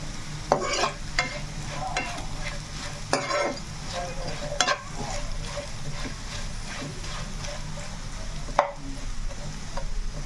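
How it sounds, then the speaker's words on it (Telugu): Bitter gourd frying in a pan for a spicy powder, a steady sizzling crackle with repeated stirring scrapes from a spoon, close and fairly loud. "కాకరకాయ చక్కగా వేగుతుంది కదా"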